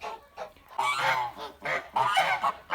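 Kholmogory geese honk loudly and close by in a nesting area in spring, with a few quick overlapping calls repeated in short bursts.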